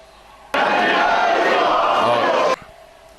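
A professional wrestling crowd at a 2004 FWA show jeers a wrestler, a loud, dense roar of booing that bursts in abruptly, holds steady for about two seconds, then cuts off.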